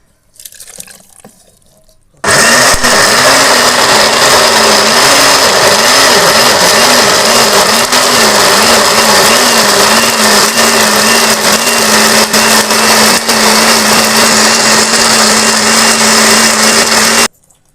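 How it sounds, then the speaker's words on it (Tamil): A mixer grinder blending toor dal chutney whirs loudly and steadily for a long stretch, its motor pitch wavering as contents churn, then cuts off abruptly. "நம்ம மிக்சியில் அரைச்சிடலாம்"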